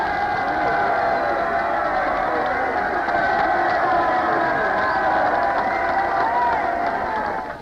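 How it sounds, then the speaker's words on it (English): A crowd at a 1964 general election count applauds and cheers at a Liberal result, a steady dense roar of clapping and voices continuing throughout. "a tremendous amount of applause going on"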